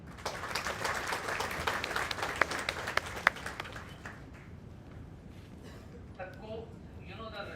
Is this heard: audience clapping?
yes